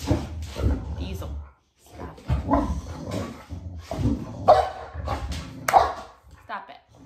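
Dogs bark in repeated bursts close by, and whimpers and yips mix in between while a person talks over them.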